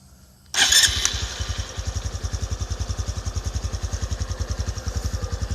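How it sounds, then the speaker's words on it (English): A Honda CT125 Hunter Cub motorcycle engine cranks and catches with a sharp burst, then settles into a steady, rapid putt-putt idle, close and fairly loud, with no voices. "So you can hear the roar of this motorcycle."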